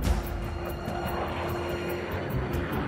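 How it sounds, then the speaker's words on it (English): A squadron of F-15 fighter jets on patrol over enemy territory produces a continuous roaring engine drone, steady and fairly loud, with no voices over it. "Here, a squadron of F-15 search enemy territory for potential targets."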